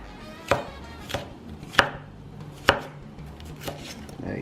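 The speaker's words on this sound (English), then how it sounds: "Want to slice it up, you know, pretty thin." A knife slices thinly through an ingredient for beef soup, caldo de res, on a cutting board, giving six evenly spaced sharp chops, close and clear, with no talking.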